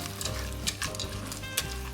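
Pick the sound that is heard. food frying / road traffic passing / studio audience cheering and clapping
food frying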